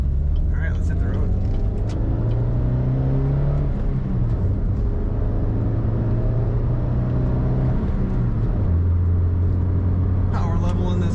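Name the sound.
2007 Pontiac Solstice car driving on the road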